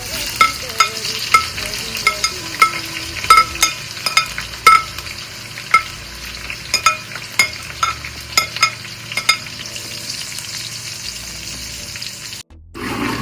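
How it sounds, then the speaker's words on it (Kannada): Sliced onions fry in a pan for Gowda-style mutton biryani, a constant crackling sizzle broken by repeated sharp scrapes and taps of a spatula stirring, close and fairly loud, cutting off abruptly near the end. "ಗೋಲ್ಡನ್ ಫ್ರೈ ಆಗೋ ತನಕ ಸ್ವಲ್ಪ ಬಾಡಿಸ್ಕೊಳ್ಳೋಣ."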